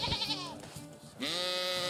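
Goats and sheep in the medieval farming game Medieval Dynasty bleat in a wavering cry at the start, then a louder sustained bleat near the end, with no talking over them.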